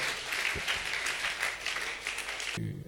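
Church congregation applauding together at an entrepreneurship seminar, a steady dense wash of clapping that holds evenly for a few seconds before cutting off abruptly.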